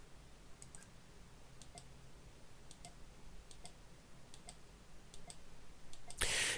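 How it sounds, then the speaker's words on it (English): A computer mouse clicks faintly in a quiet room, with single and double clicks spaced about every half second to a second, and a brief louder burst right at the end. "I'm going to left click and right click around."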